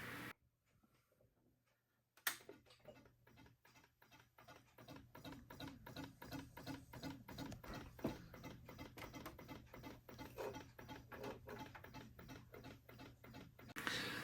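A faulty Macintosh Plus computer is powered on: after a brief near-silence, a sharp click is followed by a rapid, continuous ticking and crackling chatter that keeps going at a fairly even pace up close.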